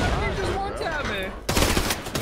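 Gunfire in the video game Arena Breakout Infinite, a sudden loud rapid burst of shots near the end, following a stretch of voices talking.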